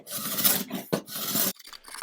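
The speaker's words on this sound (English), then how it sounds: "Taking the varnish off." Varnish being scraped off an old wooden item in a dusty restoration, heard as close, rasping strokes in two long bursts with a short gap between, then quieter scratchy scraping.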